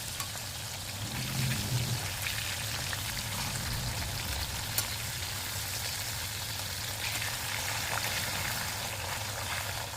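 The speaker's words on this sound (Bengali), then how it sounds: "মাছগুলো একটু ভাজা ভাজা হয়ে যাওয়া পর্যন্ত ওয়েট করব" Koi fish pieces fry in hot oil in a pan, giving a steady, close crackling sizzle like heavy rain that carries on evenly throughout, with no voices.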